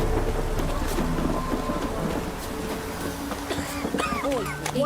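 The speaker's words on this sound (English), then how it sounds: "This downpour?" Steady heavy rain hisses throughout with low rumbling thunder in The Witcher 3, while background voices and a few tonal chirps sit faintly in the mix.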